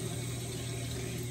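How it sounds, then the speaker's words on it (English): Water runs steadily from a tap into a sink, a constant broadband rush with no breaks, close by, with no talking over it. "Okay, so first I'm gonna start by turning my water on."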